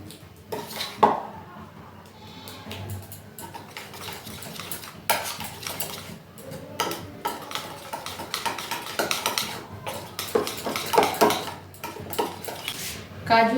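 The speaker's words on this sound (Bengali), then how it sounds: "এভাবে ভালো করে আমি ফেটিয়ে নিচ্ছি" Semolina batter for vapa pitha is beaten by hand in a bowl, giving irregular clinks and scrapes of utensil against the bowl, close and fairly quiet, with no speech.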